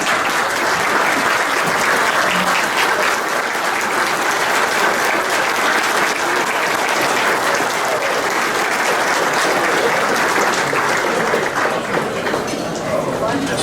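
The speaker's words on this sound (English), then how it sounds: "Would you all please stand and applause for our great sponsors" A standing crowd at a softball hall of fame banquet gives a loud, continuous ovation for the sponsors, with dense clapping throughout and murmured voices mixed in beneath it.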